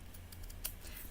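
Long scissors cutting through card at a crafting table, a few faint, brief snips and crisp slicing sounds spaced over about a second, close by and quiet, with no talking.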